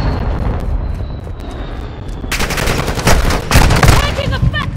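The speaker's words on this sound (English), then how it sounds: "Taking effective fire!" Gunfire and explosions in Call of Duty Modern Warfare: a steady low rumble of distant fire for the first half, then dense, loud bursts of rapid shots and booms crowding together in the second half.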